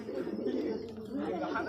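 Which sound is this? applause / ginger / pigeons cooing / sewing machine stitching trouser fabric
pigeons cooing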